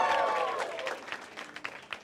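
Comedy club audience at the DC Improv bursts into applause and cheers, starting loud with whoops then thinning to scattered claps over about two seconds, with a voice briefly audible.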